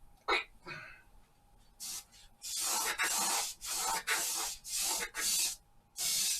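Acrylic paint sprayed from an airbrush or spray gun in short hissing bursts, a few sparse puffs at first and then a regular series of longer sprays close by.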